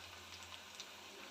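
Oil in a pan gives a steady, faint hiss with small crackles while spiced onions cook with chili and cumin powder, a continuous quiet sizzle with no voices.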